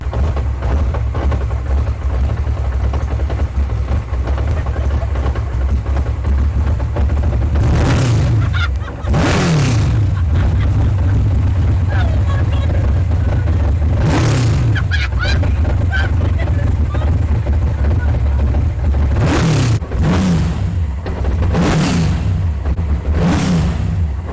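A BMW Z4 GT3 race car engine, no turbo, revs toward 11,000 rpm, climbing in pitch in several bursts over a constant roar, close and powerful.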